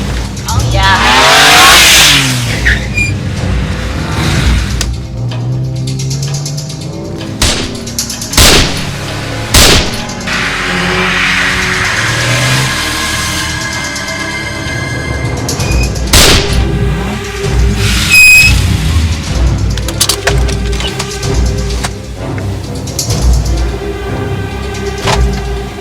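A car engine revs and accelerates during a film chase scene, mixed with loud bangs like gunshots and booms, sharp impacts scattered throughout over a dense action soundtrack with shouting voices.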